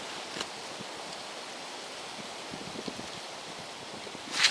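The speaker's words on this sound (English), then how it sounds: "See, it's pretty windy out." Wind blowing through a cedar tree above a sleeping bag at a campsite on a hiking trail in Douglas County, Kansas, a steady soft broadband rush with faint rustling, brief louder gusts near the end.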